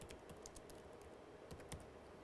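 Rapid, quiet keystrokes tap on a computer keyboard in a steady irregular patter, close but faint, with no speech.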